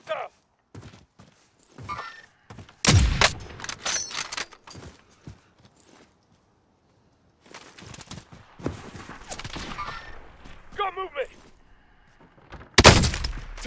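Bursts of gunfire from the video game Warzone crack out in irregular clusters, some sharp and loud, others quicker and fainter, separated by quiet gaps, with a few brief voice sounds between.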